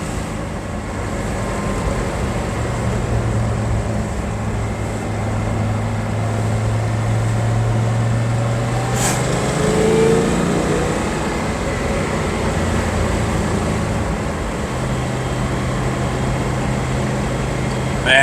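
An original 1966 Chevelle SS 396 V8 runs while driving, giving a steady low engine drone with a brief rise in pitch midway, moderately loud inside the car with no talking.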